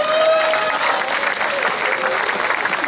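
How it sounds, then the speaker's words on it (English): A room full of people at a varsity awards ceremony gives a steady, loud round of clapping that holds evenly from start to finish, with a little crowd murmur underneath. "Big round of applause for Tracy."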